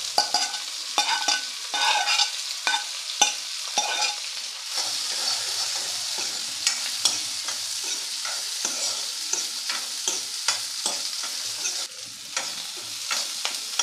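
Chopped orange peel sautéing in a pan for orange skin pachadi, a continuous close sizzle broken by frequent stirring scrapes and taps.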